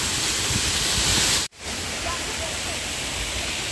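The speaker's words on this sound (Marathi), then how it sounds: "इथून हे जे पाणी पडतंय ना, हे अंगावर पडते" A monsoon waterfall at Malshej Ghat pours down as a dense, loud, steady roar. The sound cuts out for an instant near the middle, then resumes slightly softer, with a voice faintly audible beneath it.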